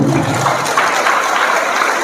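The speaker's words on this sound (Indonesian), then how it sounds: "Tepuk tangan lagi" A crowd applauds during a speaker's talk, a dense, steady wash of clapping that stays loud and even for about two seconds with no voice on top.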